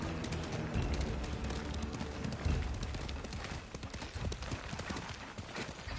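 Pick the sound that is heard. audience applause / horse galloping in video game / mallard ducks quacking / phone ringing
horse galloping in video game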